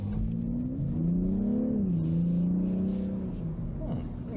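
A BMW M340i with all-wheel drive in sport mode accelerates hard: a loud, smooth engine note that climbs steadily in pitch, dips briefly as a gear changes, then pulls on, heard from inside the cabin.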